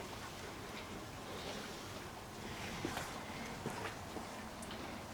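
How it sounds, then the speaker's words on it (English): Steady, soft rain hiss heard through an open back door, with faint scattered patters and drips, continuous and fairly quiet throughout. "So it's actually raining at the moment."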